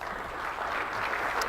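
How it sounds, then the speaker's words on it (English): Audience applause at a tech conference session at AWS re:Invent, a short steady burst of clapping from a hall full of people, even and continuous. "maybe a round of applause for Lindsay."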